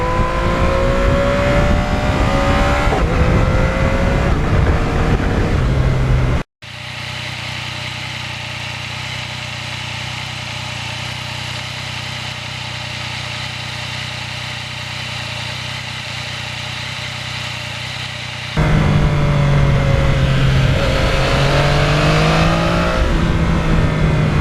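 A 2020 Yamaha MT-09 motorcycle rides shady back roads, its engine droning steadily and loud, with rising revs and gear changes near the start and again near the end, after a brief dropout.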